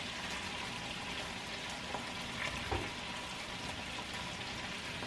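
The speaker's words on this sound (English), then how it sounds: "We're just getting nice and hot and like searing it." Thin cuts of meat searing in a hot pan before going into a crock pot, giving a continuous soft, even sizzle close by with a couple of faint clinks and no talk.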